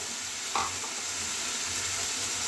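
Shelled peas are tipped into a pan of frying vegetables for an aloo matar gajar sabzi, making one short burst at the drop over a steady sizzle that runs on beneath.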